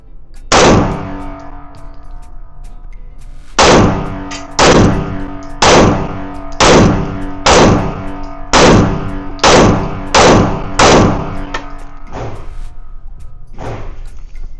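Pistol gunshots at an outdoor shooting range: a single loud report, a pause, then a steady string of about ten sharp, evenly spaced shots, close and prominent with no talking.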